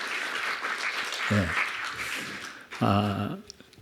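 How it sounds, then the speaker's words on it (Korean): Church congregation applause welcoming two visiting missionaries, a broad burst of clapping that swells and fades, with speech breaking in at moments, fairly close in a hall. "먼저 우리 박수로 좀 환영하시고 시작했으면 좋겠습니다"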